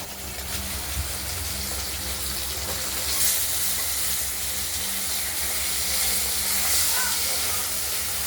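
Hot oil fizzing in a pan while fish is fried, a loud continuous close hiss with a few faint pops and spatters; a voice talks briefly over it.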